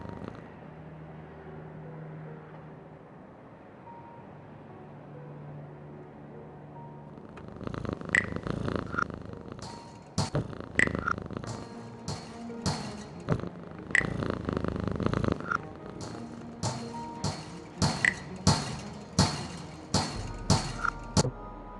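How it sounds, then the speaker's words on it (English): A cat purring by an open window on an evening street in the game Frequency Missing; a quiet ambient stretch gives way to rhythmic soft thumps and purr-like pulses repeating steadily through the rest. "There's a cat up there by an open window, enjoying the evening air."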